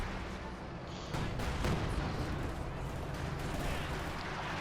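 Rocket barrages and combat fire from Company of Heroes 2 roll on as a dense, continuous rumble with a sharper burst of launches around the middle, mid-distance and fairly loud throughout.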